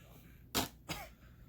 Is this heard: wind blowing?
no